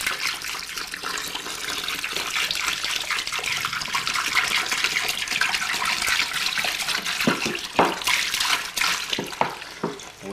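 Hot water is poured by the gallon into a container holding 5 pounds of sugar to dissolve it for moonshine, a steady broad splashing pour running throughout with a few sharper gurgles and splashes near the end, close and fairly loud.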